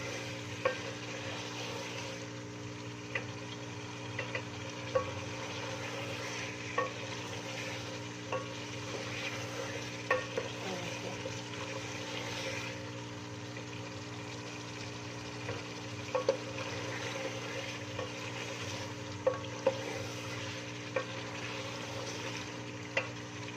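Punjabi-style aloo gosht, potato and meat curry, being fried (bhuna) in a pot with no water yet added, a continuous close sizzle broken by scattered stirring clicks and scrapes, with no talk.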